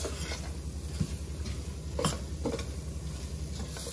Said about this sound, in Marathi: हा देखील आपण अर्धा मिनिट परतून घेणार आहोत.